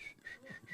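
A person whistles a short melodic phrase of a few wavering notes, close and clear, with no talking over it.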